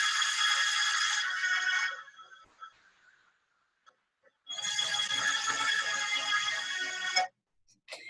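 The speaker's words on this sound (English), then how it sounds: "That would be my husband playing Spotify upstairs." Music from Spotify plays in a room upstairs, two bright tonal bursts separated by near-silence, heard without talk.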